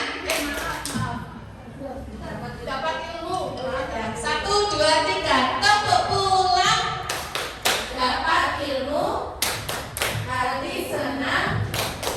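Schoolchildren in a classroom chant a goodbye clap rhyme together, voices rising in unison over a run of sharp, rhythmic hand claps that grow louder in bursts toward the end.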